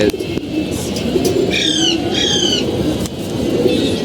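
Two short bursts of pigeon cooing over a steady, noisy background hum, close by and fairly clear, with a scuff near the start.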